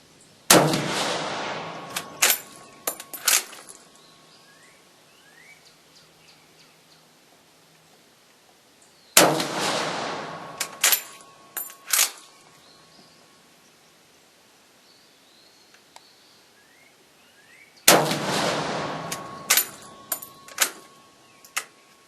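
Steyr M95 carbine shots fired with military ammunition at a 50-yard range: three loud reports spaced several seconds apart, each followed by sharp clicks and clacks of the action being worked.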